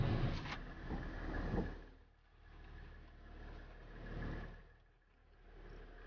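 A 2012 Toyota Coaster bus engine running with its exhaust brake engaged, a steady low rumble that swells and eases in slow waves, loudest at the start and again around the middle, with no talk.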